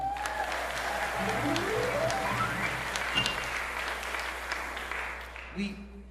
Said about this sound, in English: so clap for them too, please